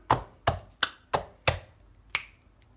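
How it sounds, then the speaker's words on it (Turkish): Six sharp body-percussion hits of hand and finger snaps, including slaps on the floor and the back of the hand, spaced in a steady, even rhythm, close and crisp with no talking. "Yere vurdum, elimin üstüne vurdum ve parmak şıklattım."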